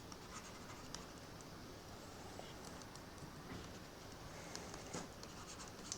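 Pen or marker scratching across a surface while equations are written out by hand, a faint, steady patter of small strokes over low background hiss.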